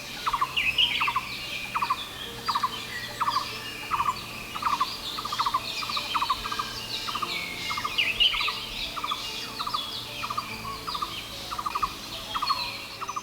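Repeated forest fowl crowing and squawking in the Satchari forest of Sylhet, Bangladesh, carries at a steady, regular rhythm over a dense bird chorus, moderately near and clear the whole time.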